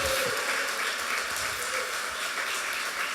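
A church congregation applauds in a continuous, fairly uniform burst of many hands clapping, filling the space evenly for a few seconds with no talking on top.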